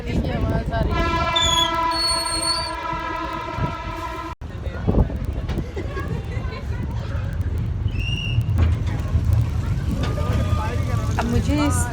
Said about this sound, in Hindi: ट्रेन की चलने की आवाज़ आ रही है।